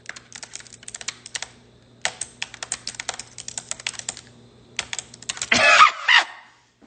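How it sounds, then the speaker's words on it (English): Close, crisp clicking of a computer keyboard comes in quick bursts of typing separated by short pauses, followed by a brief louder rustle or burst of noise near the end. "I really love the sound of the keyboard"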